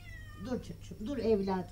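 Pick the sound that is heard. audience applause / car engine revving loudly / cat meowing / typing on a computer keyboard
cat meowing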